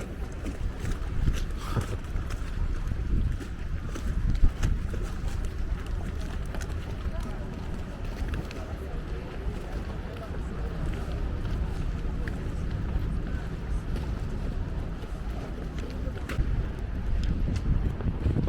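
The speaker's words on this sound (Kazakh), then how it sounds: "Қайық келеді." A Venice water taxi boat approaches, its engine a steady low rumble mixed with splashing water and gusty wind buffeting the microphone, continuous and fairly loud throughout, with no voices.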